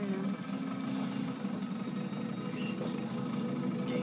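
A military vehicle engine in the Battlefield Bad Company 2 campaign runs with a steady, low, vibrating idle rumble, close and even throughout, with no voices over it.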